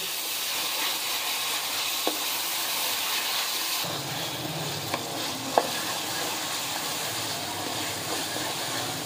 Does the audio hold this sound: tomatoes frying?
yes